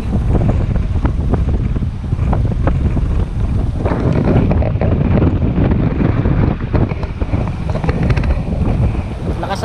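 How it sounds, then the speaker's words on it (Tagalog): Strong wind batters the microphone at a seaside boardwalk in Naga City, Cebu, in a loud, continuous roar that buffets close up for nearly ten seconds, with the sea's wash underneath. "Lakas ang hangin."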